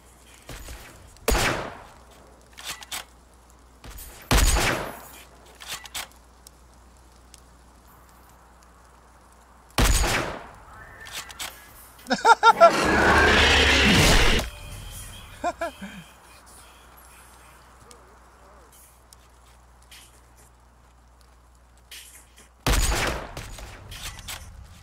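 Video game gunfire comes in short, sharp bursts scattered between quiet gaps, with one longer sustained volley in the middle, loud and close.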